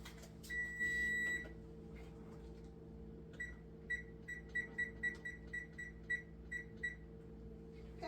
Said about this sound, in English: Oops, forgot to turn off the buzzer.